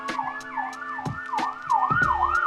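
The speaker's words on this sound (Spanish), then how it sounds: "Disculpen la ambulancia." An ambulance siren passing outside, a loud wailing tone sweeping up and down in a steady repeating cycle that stays close and strong throughout, with no talking.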